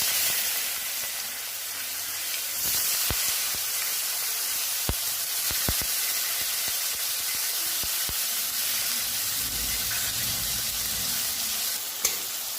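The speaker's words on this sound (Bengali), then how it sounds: "এবার এই তেলের মধ্যে আমি পেঁয়াজগুলো দিয়ে দেব।" Onions fry in hot oil left after frying pomfret fish, giving a loud, steady sizzle and hiss with occasional stirring clicks and spatter pops. No one speaks.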